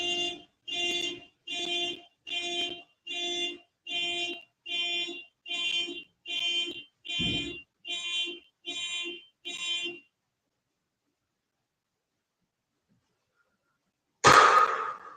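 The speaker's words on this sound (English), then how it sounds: "That car alarm was welcoming, to be honest, for me." A car alarm beeps in a steady repeating pattern, about thirteen pulses, then falls silent before a sudden loud burst of noise at the end.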